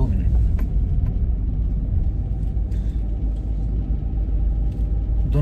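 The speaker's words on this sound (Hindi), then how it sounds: "2 मिनट लगते हैं गाड़ी पार्क करने में," A car driving slowly, around 10 km/h, while parking in a garage at Birkenhead Wharf, a low continuous engine rumble with faint knocks and rattles throughout.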